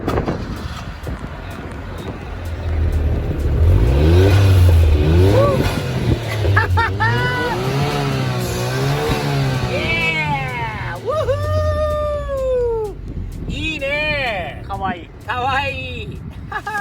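A Suzuki Cappuccino engine fitted with a Fujitsubo exhaust and blow-off valves revs up and down close by, its pitch climbing and falling in repeated loud sweeps.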